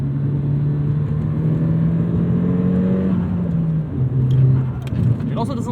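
A 2002 Nissan Silvia S15 Spec-R engine lets its revs fall slowly after a blip between gear changes, a steady droning tone sliding gradually downward, heard close from inside the car.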